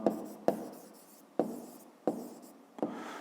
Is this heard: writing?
yes